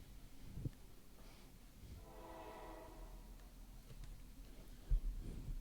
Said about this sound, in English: Hear that? That's the Porter Martone train rolling through